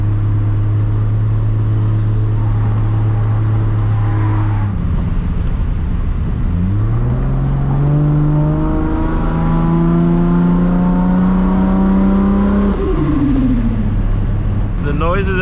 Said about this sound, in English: The noises that this car makes, oh man, it's just, it's hard to compare to it, honestly.